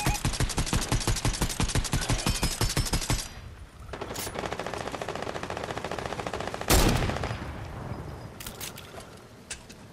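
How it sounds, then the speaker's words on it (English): Rapid, evenly spaced automatic fire from a video game rattles loudly for several seconds, then gives way to scattered single shots and sharp impacts. "Who is he shooting at?"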